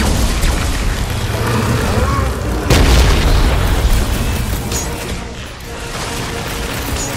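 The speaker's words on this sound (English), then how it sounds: "Take heed of the explosive, Peter Quill!" An explosive blows up during Guardians of the Galaxy gameplay, a loud booming burst about two and a half seconds in over a continuous dense roar of game noise and mechanical clatter.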